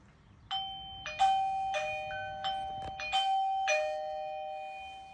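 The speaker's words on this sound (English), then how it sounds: "when I ring the doorbell here, it will bring it up as well" A eufy S330 video doorbell chimes indoors in a quick sequence of clear, ringing electronic ding tones that overlap and decay, moderately loud with no talking.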